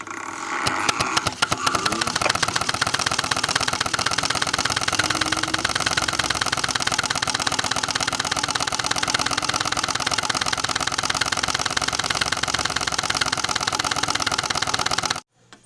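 A loud, fast rattling buzz from a card slapping against turning bicycle spokes, steady and motor-like, continuing for several seconds before cutting off abruptly.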